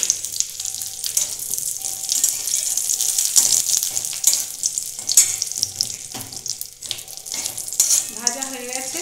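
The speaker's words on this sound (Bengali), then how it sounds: "এবার দিয়ে দিচ্ছি কিশমিশ" Raisins fry in hot ghee, after cashews, with a steady, loud, close sizzle throughout, broken by repeated stirring scrapes and brief bubbling bursts.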